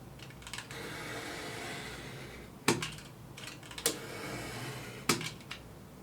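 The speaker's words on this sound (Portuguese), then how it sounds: "O objetivo é que você faça o risco, que você consiga afundar mais com o seu estilete, mas sem desmembrar" Craft knife scoring cardboard for box dividers, a few sharp scraping strokes and clicks spaced over a quiet background, close and fairly faint.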